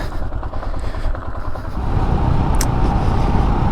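A Royal Enfield Himalayan motorcycle riding on a hot day, its engine and road rumble steady and close, growing louder and denser partway through with wind noise and no talking.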